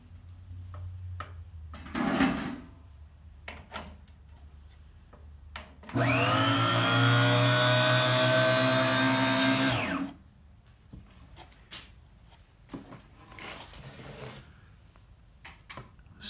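An electric zinc saw for stained glass work runs on a workbench, starting abruptly into a loud steady whining motor drone for about four seconds before cutting off, with handling clicks before and after.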